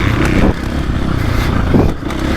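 A KTM 450 Factory Edition motocross bike rides on a dirt track, its engine roaring and revving in short surges with a dip near the end.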